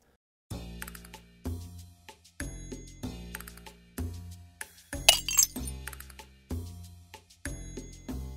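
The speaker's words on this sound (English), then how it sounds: "This man threw two empty bottles of beer over his shoulder." Empty glass beer bottles clink and clatter in a series of sharp, bright impacts, about eight distinct hits with one louder crash near the middle, close and alone with no talk.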